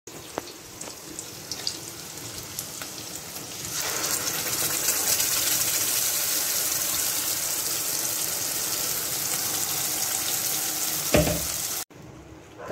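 Paneer fries in a pan with a gravy of tomato, ginger, garlic, chili and garam masala, the sizzle swelling loud and steady after a quieter start with small clinks, then a few clatters before a sudden stop.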